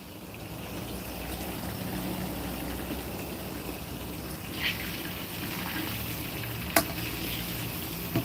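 Fish fries in a pan of hot oil, giving a steady, close sizzle and crackle that runs throughout, with a few brief clinks of a utensil and no talking.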